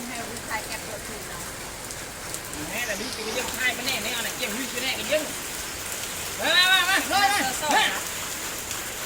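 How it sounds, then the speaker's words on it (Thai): Steady rain pours down in a constant broadband hiss, with a voice talking intermittently over it and a brief louder burst of speech near the end. "ฝนตกปล่อยๆนะคะ"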